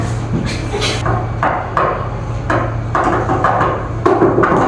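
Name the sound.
knocking repeatedly on a table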